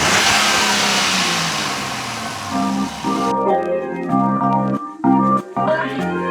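A RAM 1500 with the 3.0L Hurricane twin-turbo engine and an aFe cold air intake revs up hard, then blips the throttle in several sharp bursts that drop back between pulls, loud and close.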